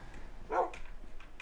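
A dog barks in the Minecraft video game, a single short yip-like bark at moderate distance followed by a few fainter, brief whimpering barks over quiet background.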